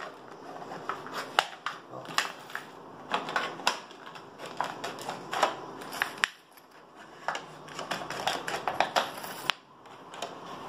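Scissors snip through a PET plastic bottle in a quiet room, producing a rapid series of close, crisp plastic clicks and crunches in irregular bursts, with a short pause midway.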